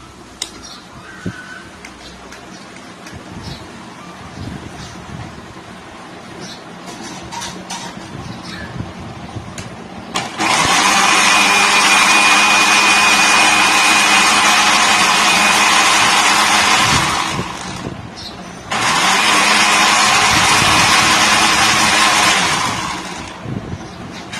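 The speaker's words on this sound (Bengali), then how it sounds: "এখন আমি সেটা একটু কিছুক্ষণ ব্লেন্ডার করবো" An electric blender whirs through a chocolate milkshake in two long, loud bursts separated by a brief pause, drowning out the quiet kitchen background.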